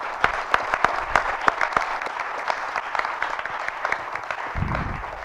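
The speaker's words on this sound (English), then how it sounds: "Just a quick round of applause for the sponsors." An audience in a packed office room claps for event sponsors, a steady round of applause with crisp individual claps throughout and a low thump near the end.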